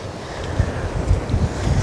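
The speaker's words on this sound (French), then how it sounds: "il y a toujours un petit peu de vent" Wind gusts at the seaside, buffeting the microphone with a low, rumbling roar over a steady broadband hiss, close and constant, with no voices.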